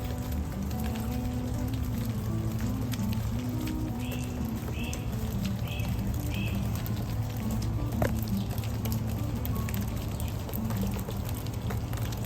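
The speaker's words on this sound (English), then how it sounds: "This is a light rain this morning" Light morning rain falls steadily by a front porch, a soft continuous patter on surfaces with a few brief faint chirps above it, no talking.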